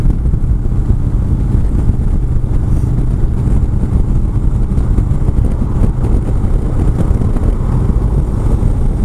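A Harley-Davidson motorcycle on a commute gives a loud, continuous engine rumble from the rider's position, thick with wind buffeting and no clear break between gears.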